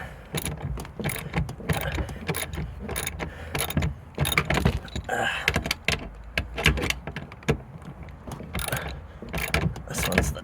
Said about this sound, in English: Once I remove these 4 bolts, the bottom brackets will no longer be attached.